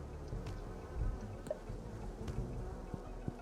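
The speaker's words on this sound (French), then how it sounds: "Il y a de gentilles abeilles ici." Friendly bees in the World of Aria video game swarm straight toward the player, a soft continuous insect buzz droning at moderate level, with a few faint clicks scattered through it.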